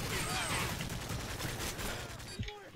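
Rapid automatic gunfire and overlapping shots in a chaotic Modern Warfare 3 multiplayer firefight, loud and continuous, with bursts layered densely before stopping abruptly near the end.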